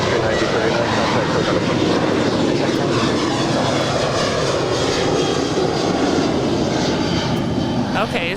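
A jet airliner lands on runway 25 left at LAX, its engines a loud, continuous broadband roar that fills the whole stretch without letting up.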